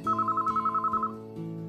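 A telephone rings in the visual novel Sharin no Kuni as a rapid electronic trill of about a dozen pulses. A soft musical tone follows under the quiet background.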